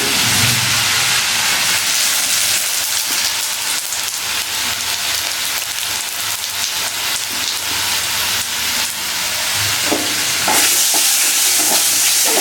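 Two dried red chillies and whole cumin seeds crackle in hot oil while being stirred, a dense continuous sizzle like rain on a surface, loud and close, with a few sharper pops toward the end.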